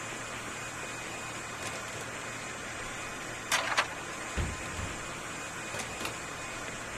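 A hair dryer in the video game Joe's Diner runs as a steady whirring, hissing drone throughout, with a few brief clicks and knocks layered over it.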